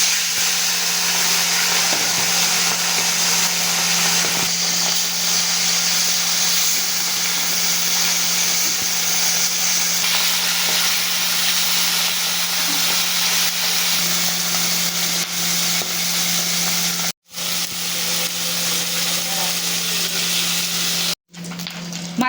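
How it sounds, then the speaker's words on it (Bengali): Small bata fish fry in hot oil with a loud, steady crackling sizzle that persists throughout, broken by two brief dropouts near the end, with no voices. "তেলটা গরম হয়ে গেছে। এবার আমি মাছগুলো ছেড়ে দেবো।"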